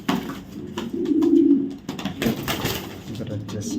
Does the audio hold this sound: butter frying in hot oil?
no